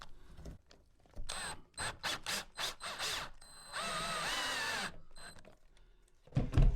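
A small screw being driven into a model railway baseboard to fix a Gaugemaster DCC Autofrog unit, heard as several short close mechanical bursts followed by a longer steady whirring stretch and a final clatter.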